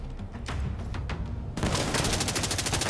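Gunfire in the video game The Division 2 Warlords of New York: scattered shots, then a sudden loud, rapid stream of machine gun bursts filling the second half.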